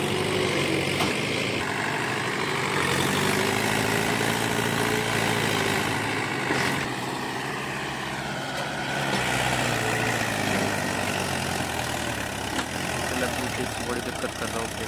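Mahindra 575 DI tractor straining to pull a trolley loaded with sugarcane, a loud continuous diesel chug and drone that rises and falls with throttle, while several people shout and talk over it.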